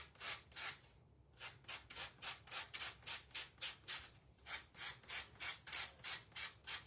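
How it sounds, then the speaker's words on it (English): Hand sanding a wood edge with 120 grit sandpaper gives close, rhythmic back-and-forth rasping strokes, about three per second, with a brief pause near the start and another midway. "Sanding off the edges."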